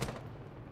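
Gunfire in a shooting video game, either Rainbow Six or Sniper Elite 4: a sharp shot at the start and another burst just before the end, with a low rumbling tail between them.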